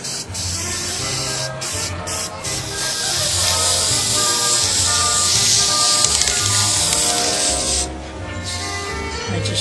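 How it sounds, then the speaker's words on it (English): Aerosol can spraying gold paint onto a model, a steady broad hiss running the whole time with brief pauses and low background rumble. "Spray paint it gold."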